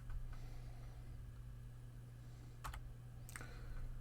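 Soft keyboard typing during CAD drafting, a few quick clusters of keystrokes over a steady low hum, faint and with no voice.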